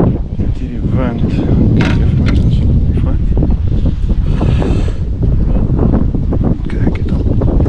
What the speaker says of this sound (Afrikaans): Met hierdie wind.